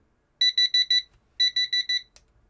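A countdown timer alarm goes off with two bursts of four rapid electronic beeps each, loud and close, followed by a brief click, in an otherwise quiet room.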